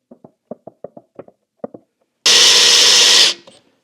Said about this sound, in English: I need to drill an 11/32 hole before I tap it